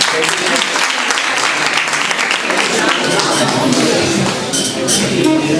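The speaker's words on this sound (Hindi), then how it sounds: "तालियां आप लोग बजा दीजिए।" Audience applause for a poetry performance, dense sustained clapping from a crowd that fills the room, loud and steady throughout.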